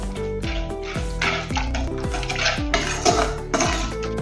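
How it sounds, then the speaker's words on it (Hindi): A spoon stirs spices such as turmeric into a potato curry in a metal pan, scraping and clinking in a steady repeated rhythm, close and clear with no speech. "अभी अच्छे से इसको और से मिक्स कर लेंगे।"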